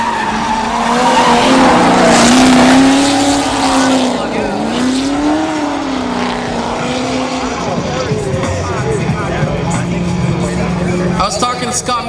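A Toyota Corolla drift car and another car run sideways at a drift final, tires squealing in long wavering screeches over revving engines, loud and continuous, with a commentator talking over it.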